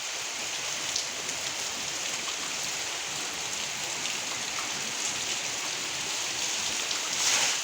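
Steady, dense rainfall pattering on surfaces, a constant hiss that stays even throughout with no voices.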